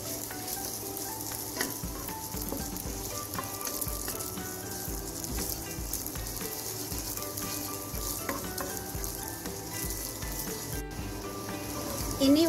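Beaten egg poured into hot oil in a wok, frying with a continuous close crackling sizzle and scattered pops, no talk over it.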